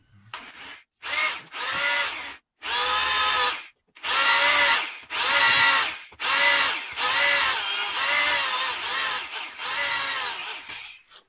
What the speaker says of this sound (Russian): Сверлится следующее отверстие.